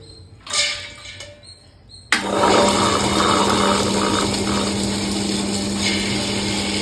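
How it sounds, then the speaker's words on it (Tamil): After a few soft clatters, a wet grinder loaded with soaked urad dal switches on abruptly and keeps up a steady grinding hum with a constant low tone to the end. "இப்போ அதை கிரைண்டரில் போட்டு விட்டுறலாம்."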